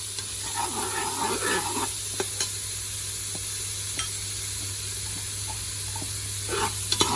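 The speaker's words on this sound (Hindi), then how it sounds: "इसके अंदर ये मैंने ऑयल के अंदर हाफ अनियन डाल दिए। इसको आप जरा सा फ्राई कर लें 1 मिनट के लिए।" Half an onion frying in a tablespoon of oil hisses in a continuous, close sizzle, with occasional light stirring scrapes and a few soft ticks from the pan.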